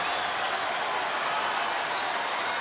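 Roaring crowd of thousands at a Rangers–Angels baseball game in Texas, a steady broadband wall of cheering and applause that holds loud and continuous throughout, with no individual voices standing out.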